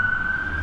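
Police siren holding a steady high tone through the whole moment, moderately loud over a low rumble of traffic in a public area beside a roundabout.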